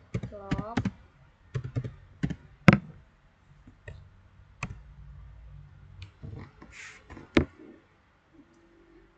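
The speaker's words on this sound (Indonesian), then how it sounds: "Di sini kita ketik git log" Sporadic clicky keystrokes on a computer keyboard typing a git log command, short bursts of sharp taps separated by pauses, with a voice briefly speaking at the start.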